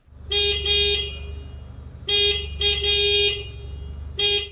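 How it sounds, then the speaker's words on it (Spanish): A Mazda RX-7 horn honks several times, short and long blasts with a nasal, slightly comical tone, loud and close with idling engine rumble beneath. "El sonido del claxon del coche es muy ridículo"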